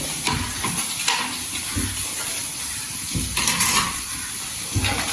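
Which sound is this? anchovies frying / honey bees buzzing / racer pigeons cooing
anchovies frying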